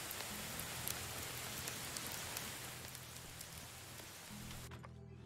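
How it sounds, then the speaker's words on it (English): Steady rain falls in the medieval village-building game Medieval Dynasty, a dense continuous hiss of drops with a low background hum underneath, cutting off abruptly just before the end. "And it has been raining all day."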